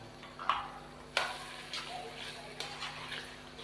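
Cumin powder and garam masala being stirred into chicken jalfrezi in a pan: a soft steady sizzle with a few sharp scrapes and taps of the spoon against the pan, close and fairly quiet.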